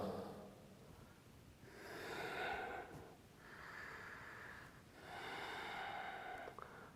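Slow, deep yoga breaths in a quiet room, three long airy exhalations of roughly two seconds each with brief pauses between, close and fairly soft with no talking.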